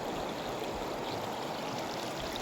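The Busigon River rushes past steadily, a dense continuous wash of flowing water heard close up with no break or voices.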